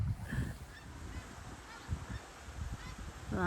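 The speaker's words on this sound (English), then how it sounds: "is a lot of geese going home to Canada" Geese honk in scattered calls, faint and distant over an outdoor background hiss near a canal basin, with a louder honk near the end.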